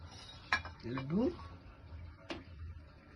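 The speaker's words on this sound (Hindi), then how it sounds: "तुमने ये बर्तन उसमें से निकाल ले और अब यहाँ पटकी पटकी कर रहा है इनको।" A small child bangs metal kitchen pots and utensils at home, a few sharp clanks and scraping clinks spread over a few seconds, with a voice talking softly around them.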